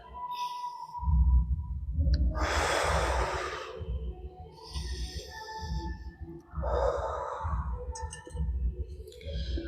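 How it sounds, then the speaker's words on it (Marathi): Slow, deep breaths in and out during a guided morning weight-loss exercise session, several long airy inhalations and exhalations close to the microphone with soft clicks between them. "दीर्घ श्वास घेण्याचा प्रयत्न करायचा."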